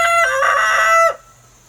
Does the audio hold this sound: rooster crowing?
yes